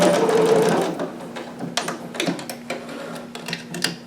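Sewing machine running in short bursts while stitching and back stitching fabric seams on a harem jumpsuit, a close, steady whirring that stops and restarts several times.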